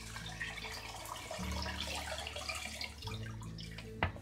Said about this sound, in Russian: И теперь я добавляю сюда воду из фильтрованной воды,